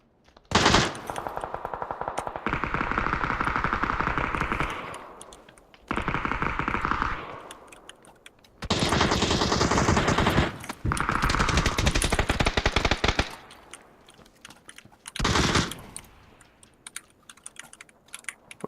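Bursts of automatic gunfire in the battle royale game PUBG: Battlegrounds, several loud, sustained volleys of rapid shots separated by short pauses, close and with no talking over them.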